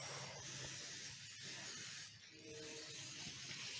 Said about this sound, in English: So I'm using cooking spray.